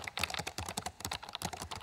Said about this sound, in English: the sound of clicking on a keyboard as code's being written for a new app